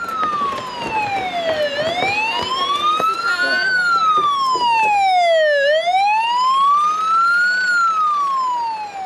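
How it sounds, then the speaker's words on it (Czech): Several fire engines arrive with wailing sirens, rising and falling in long sweeps, loud and close, with vehicle rumble underneath during a volunteer firefighters' drill at a kindergarten in Záblatí. "Děti vybíhají z mateřinky a přijíždějí první požární vozidla."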